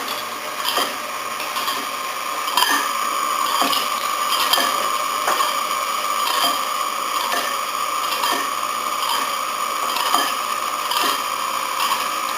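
Electric mixer whirring steadily on its stir setting while making a mille-feuille, a constant close mechanical drone with a light, regular ticking rattle throughout and no talking.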